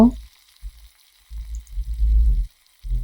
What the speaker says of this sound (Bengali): বাগারটা হচ্ছে নেড়ে চেড়ে একটু ব্রাউন কালার করে